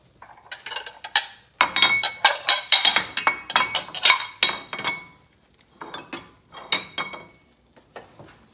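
Plates clink and clatter in a kitchen while risotto is being made, a run of bright ceramic knocks in irregular clusters with short pauses between them.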